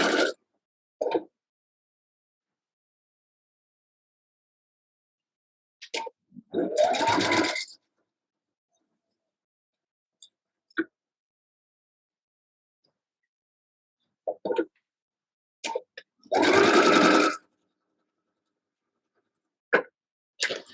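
A sewing machine stitching quilt pieces for a barn star sampler, running in two short bursts about ten seconds apart, each roughly a second long, with isolated clicks and handling noises between long silences.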